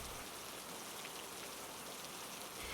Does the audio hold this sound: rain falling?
yes